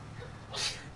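A single short, breathy sneeze bursts out close by, rising and fading within a second over a low steady background hum.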